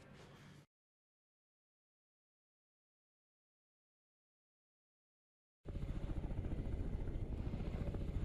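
A helicopter ferrying food containers from the Akademik Fyodorov to an Antarctic station drones in a short burst, cuts to silence, then returns as a loud, steady rotor roar.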